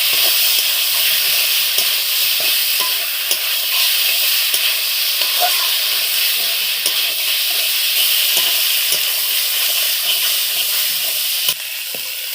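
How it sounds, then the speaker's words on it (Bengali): Potatoes fry in a cooked-down spice paste with turmeric, giving a steady, loud sizzle with steamy hiss and occasional stirring scrapes and pops, continuous throughout with no talking. "মশলাটা কষে গেছে, দেখো আলু দিয়ে দিয়েছে।"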